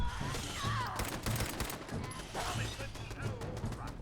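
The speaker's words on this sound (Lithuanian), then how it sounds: "girdžiu iš kulkosvaidžių kažkas šaudo" Rapid bursts of machine gun fire crackle repeatedly in Fallout 4, with a voice talking over the shooting and other mechanical effects mixed in.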